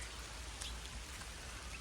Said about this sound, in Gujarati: વરસાદ પણ ચાલુ થઈ ગયો છે।